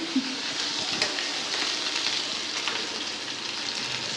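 Ginger-garlic paste sizzles in hot oil with mustard seeds and cumin in a home kitchen pan, a steady close hiss with faint crackles and brief stirring taps.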